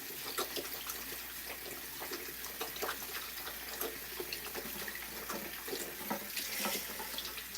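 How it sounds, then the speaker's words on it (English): Water runs from a hotel tap in a steady, hissing gush, fairly close, with small splashes and clatters breaking through the constant flow. "So sorry if this water is really loud."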